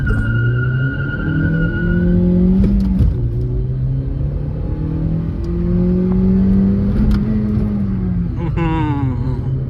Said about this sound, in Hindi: अच्छा, लॉन्च करके देखते हैं